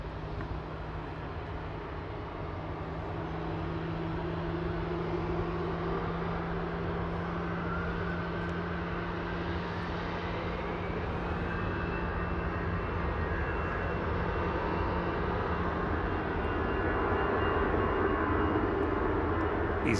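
An EasyJet airliner taxiing at Manchester Airport, heading for Reykjavik, gives a steady, fairly distant engine roar with a faint rising whine. It holds at an even loudness for the whole stretch, with no talk over it.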